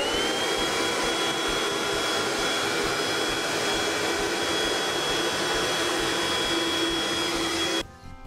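A steady, fairly loud motorized whine like a vacuum cleaner, from a Kärcher WV50 Plus window vacuum, runs continuously, then cuts off abruptly near the end.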